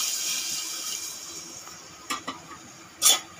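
Hot water from a half pot poured into a pressure cooker over fried goat mutton gives a close, hissing wash that fades, followed by a few sharp metallic clinks near the end.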